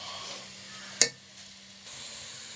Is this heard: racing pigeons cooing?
no